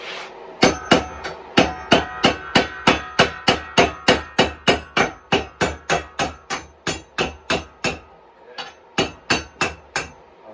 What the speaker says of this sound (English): we're just going to use a hammer and pop it